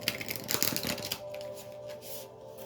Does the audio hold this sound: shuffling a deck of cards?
yes